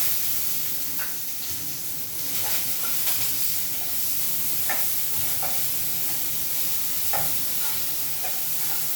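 Cumin and crushed green chili paste sizzle steadily in hot oil in a pan, a continuous loud hiss broken by occasional soft stirring scrapes.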